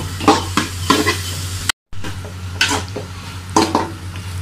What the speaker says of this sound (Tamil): நல்லா கிளறி விட்டுக்கிட்டே இருக்கணும்